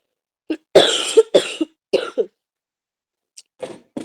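Several harsh coughs in quick bursts, a couple in close pairs, followed by a quieter cough after a pause, close and loud.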